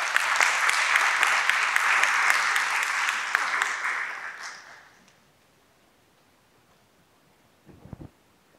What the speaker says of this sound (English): Please give a big round of applause to all the performers and to Rivkah